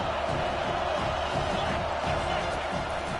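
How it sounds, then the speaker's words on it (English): A stadium crowd roars continuously in an American football video game during a third-down defensive stand, a dense, steady wash of cheering and noise at a moderate, distant level. "Decibels rising as the crowd gets behind this defense on 3rd down"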